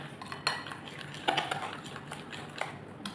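Utensil scraping and clinking in a bowl while flour batter for pizza dough is gently mixed, soft irregular strokes with a few sharper taps, close and moderately quiet.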